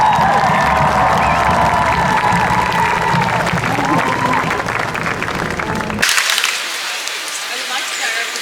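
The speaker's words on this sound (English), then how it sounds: "Please give them a big round of applause." Loud applause and cheering from a crowd at an outdoor university rally on a campus quad, sustained clapping with shouts that cut off abruptly partway through, leaving only thinner crowd noise.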